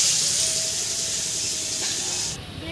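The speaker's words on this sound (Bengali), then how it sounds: "অল্প তেলে মাছটা হালকাভাবে ভেজে নেব" Fish shallow-frying in a little oil in a wok gives a steady, close hissing sizzle that runs throughout and eases slightly near the end.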